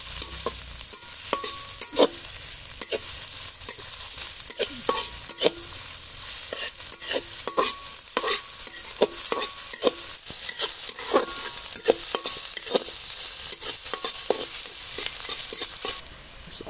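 Onions fry in oil in a pan for a spring roll filling, a steady close sizzle broken by frequent scraping stirs of a spatula, with no one talking.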